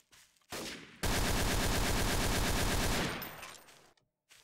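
A minigun in Garry's Mod Trouble in Terrorist Town fires a sustained, loud, rapid rattling burst lasting about two seconds, preceded by a short spin-up and trailing off at the end.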